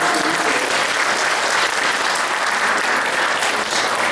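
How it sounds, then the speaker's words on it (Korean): A congregation at a Korean church's Easter Sunday service bursts into vigorous applause, a loud, dense and continuous wall of clapping that holds steady for the whole stretch. "박수 치려면 화끈하게 치죠"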